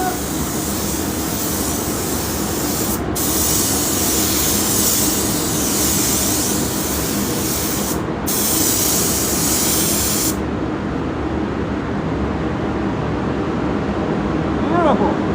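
Spray gun laying down Superior Blue paint, a loud steady hiss in two long bursts with a brief pause between, then stopping, leaving a quieter background.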